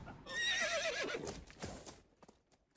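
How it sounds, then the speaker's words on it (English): Horses neighing loudly with a long, wavering whinny, followed by a few clopping hooves by a river at night, close and clear with no voices. "Then they heard horses across the river."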